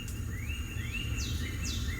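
Lively Forest ambient soundscape played through a Hyundai Tucson's car system, with repeated rising and falling bird whistles over a steady low rumble and hiss, continuous and moderately loud, no speech.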